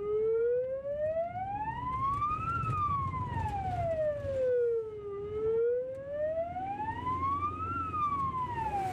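An ambulance siren wails in slow rising and falling sweeps, loud and close, as the emergency vehicle drives through traffic, with road rumble underneath.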